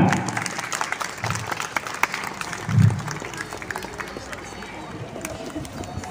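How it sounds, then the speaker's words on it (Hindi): Audience applause at an Independence Day flag-hoisting celebration in a residential society in Indirapuram rolls on steadily for several seconds, a dense wash of clapping with a brief louder swell midway. "जोरदार तालियां।"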